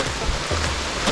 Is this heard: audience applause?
no